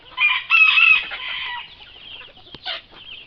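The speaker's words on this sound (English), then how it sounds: "Sometimes chickens can be so crazy." Chickens cluck and squawk loudly in quick bursts up close, with a sharper cackle near the end.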